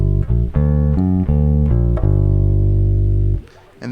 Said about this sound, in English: So this first one is a minor major 7 chord.